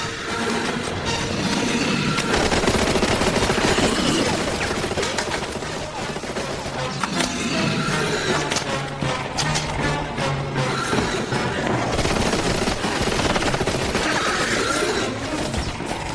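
Sustained gunfire in a French-dubbed action film: dense volleys of shots and bursts fill the scene continuously and loudly, with no pauses and no clear speech.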